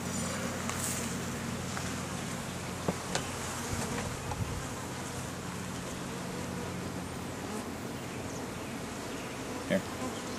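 Honey bees buzz in a steady, dense drone throughout a beehive inspection, with a few faint knocks and handling sounds over the continuous hum.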